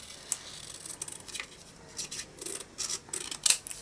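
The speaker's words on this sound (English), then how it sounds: "I'm just going to use my large scissors" Large scissors snip through paper freehand around a cut-out frame, a series of short, crisp rasping cuts in an irregular rhythm, close and fairly quiet.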